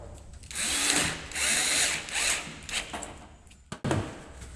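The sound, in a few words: power drill driving screws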